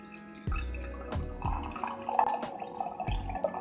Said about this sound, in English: I'm going to pour this through the strainer.